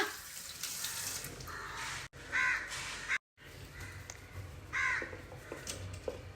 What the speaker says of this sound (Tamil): இப்போ பாருங்க வந்தியாச்சா காக்கை.